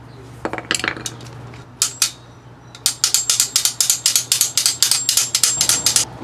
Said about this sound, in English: I'm just going to use this screwdriver. That gets it started at least.